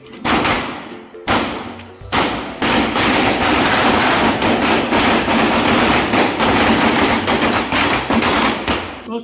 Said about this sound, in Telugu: ఈ సైలెన్స్ లో ఇప్పుడు మంట పెడతాను. ఇక్కడ పెద్ద డమాకులు సెట్టే ఉందన్నమాట